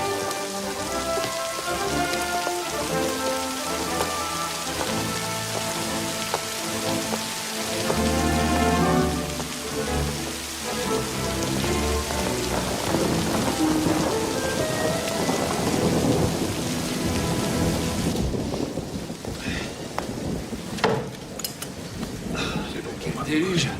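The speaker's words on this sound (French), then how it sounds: "Quel déluge! Non mais quel déluge!" A heavy downpour hammers steadily against surfaces while thunder rumbles low beneath it. The rain dominates throughout, and a burst of denser, crackling drops near the end sounds close.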